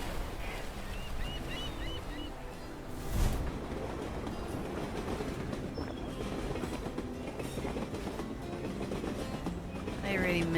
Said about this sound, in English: I really miss those clackety-clack trains. That's what they used to sound like.